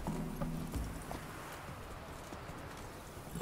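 Hooves of Roach, Geralt's horse in The Witcher 3: Wild Hunt, clip-clopping in a steady trotting rhythm, close and clear, with no voices.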